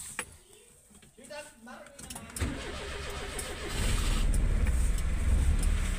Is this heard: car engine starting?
yes